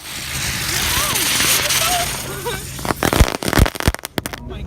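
Firework mortar shell launching and bursting at a backyard fireworks show, a sustained hissing roar giving way to loud crackling pops and sharp bangs, with people talking nearby.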